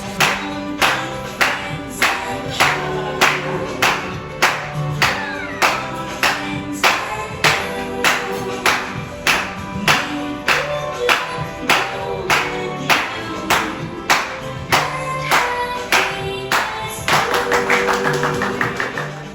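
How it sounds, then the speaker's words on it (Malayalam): A group claps in a steady, even rhythm, about one clap every three-quarters of a second, along with music at a birthday cake-cutting in a Barbeque Nation restaurant, the beat sustained and fairly close. "എല്ലാവരും കൂടിയും ക്ലാപ്പ് ചെയ്ത് ഞങ്ങൾ കേക്ക് കട്ട് ചെയ്തു"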